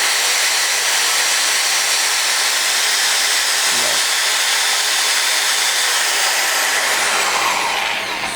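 A handheld power drill runs steadily at speed with a continuous, loud whirring whine that holds throughout, briefly dipping once midway; no voices are heard.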